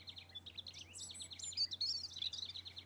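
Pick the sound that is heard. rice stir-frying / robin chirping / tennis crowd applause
robin chirping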